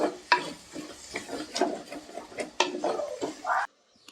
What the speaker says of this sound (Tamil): அடுப்பை லோ ஃப்ளேமில் வச்சுட்டு ஒரு நிமிஷம் போல் ஆயிலை நல்லா வதக்கிக்கலாம்